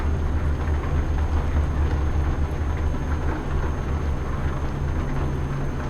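Steady rain drumming down in a trucking simulation set in Scotland, a dense continuous patter over a low engine rumble, constant and fairly loud with no talking.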